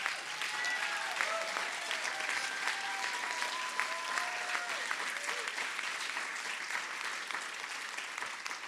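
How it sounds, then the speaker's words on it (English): Sustained audience applause for Hero Everyday Award recipients at an awards ceremony, a continuous even roar of many hands clapping, with faint voices and a few whistles or cheers mixed in early on. "Please join us in one last round of applause for our Hero Everyday Award recipients."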